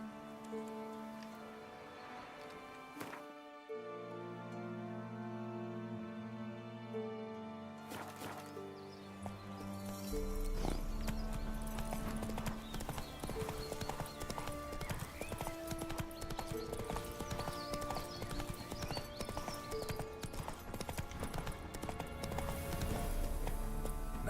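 Roach, a horse in The Witcher 3 video game, gallops with steady rapid hoof clops under a game music score, growing louder and busier from about ten seconds, with an occasional whinny.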